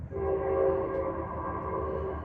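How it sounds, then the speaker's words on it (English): A train passes in the background with a steady, sustained horn tone over rumbling rail noise, loud and continuous throughout, with no talking. "without that train that's in the background"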